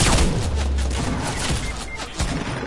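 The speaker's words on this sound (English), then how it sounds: "Who just shot?" Dense burst of rapid gunfire in a Fortnite-style battle game, a loud sustained fusillade of overlapping shots with a few heavier booms across the whole stretch.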